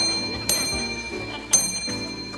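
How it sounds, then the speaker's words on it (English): An impatient customer ringing a check-in desk bell, with two sharp metallic dings about a second apart over a quiet room tone and faint background murmur. "an impatient customer ringing the check-in bell"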